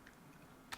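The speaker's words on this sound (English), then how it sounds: "I need to type in an output path" Computer keyboard typing, a couple of quick soft keystrokes near the end over faint room hum, quiet and close.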